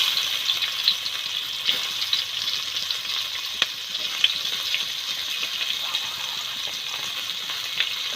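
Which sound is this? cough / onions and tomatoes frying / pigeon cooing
onions and tomatoes frying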